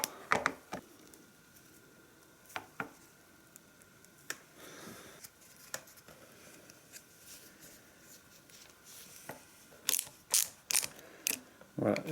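A fastener on a street motorcycle handlebar is tightened, with sparse close mechanical clicks and ratcheting ticks spread out, turning into a quicker run of sharp clicks near the end, over a quiet room background.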